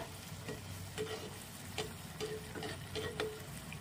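Soft, continuous sizzle of jackfruit pitha frying and puffing in hot oil, punctuated by light intermittent scraping and stirring sounds, quiet and close.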